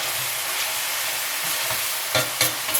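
Meat with onions, paprika, garlic powder, salt and pepper hisses steadily in a hot pan, with a few scraping stirs near the end standing out from the constant close sizzle.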